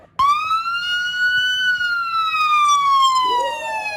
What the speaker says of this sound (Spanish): Es una ambulancia